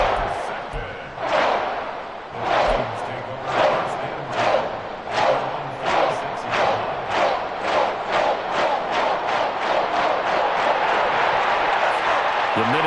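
Stadium crowd in Madden 24 during a Vikings versus 49ers franchise game roars and cheers, with loud rhythmic chanting bursts that quicken and swell into a sustained roar.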